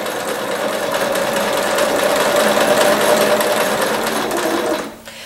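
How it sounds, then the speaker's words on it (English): A sewing machine stitches a straight line through paper hearts for a garland, a steady close whirring hum that runs evenly for about five seconds before stopping. "just start sewing a straight line from top to bottom"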